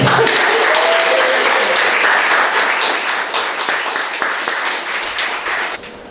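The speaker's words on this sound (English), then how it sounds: "Big round of applause for Erin." A live audience at a reading event gives the reader a loud round of applause, thick clapping that starts strong and gradually thins and fades toward the end.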